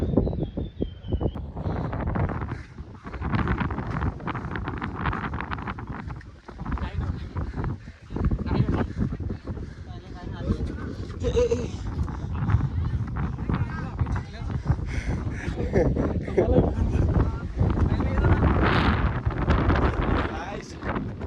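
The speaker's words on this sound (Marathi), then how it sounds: "full हवा सुटलेली आहे" Strong wind blows outdoors on a trek, roaring and buffeting against the microphone in gusty, uneven bursts, with people talking loudly over it throughout.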